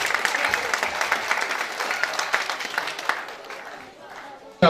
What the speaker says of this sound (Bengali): দিতে চাই করতালি।